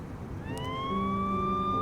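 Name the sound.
police car sirens in Lucid9 video game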